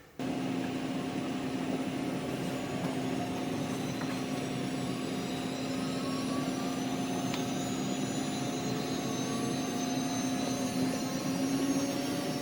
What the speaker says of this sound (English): Make sure we don't overspeed the spindle.